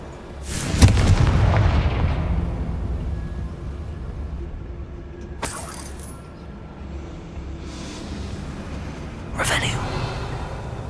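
Confringo spell blasts in the Hogwarts Legacy PC video game, a loud booming explosion followed by two sharper, fainter bursts over a steady rumbling game background.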